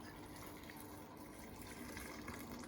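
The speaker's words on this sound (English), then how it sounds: "My mum's going to put some hot water in, about 4 cups" Hot water, about four cups, poured into a container for homemade conker laundry soap, a steady close rushing gush that runs unbroken throughout.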